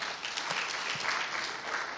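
Steady audience applause at an agricultural engineering institution's opening ceremony, a moderate, even wash of clapping with a few louder individual claps standing out.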